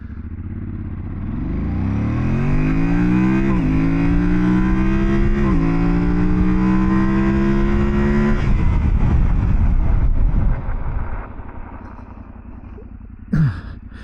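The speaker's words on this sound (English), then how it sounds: "0 to 70 miles an hour to 0, performance testing, Tenere 700" Yamaha Tenere 700 motorcycle accelerating hard from a stop up to 70 mph, engine pitch climbing through clear gear shifts, then closing off and braking as the roar fades to wind and idle near the end.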